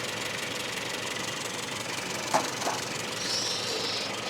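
Classic Mini engine held steady near 700 RPM on a tuning session while running lean, a faint continuous mechanical hum with a couple of brief knocks partway through.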